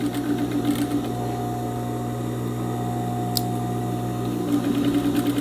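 A sewing machine runs a continuous close whirring hum while restitching a skirt seam to correct it, with one short sharp click near the middle.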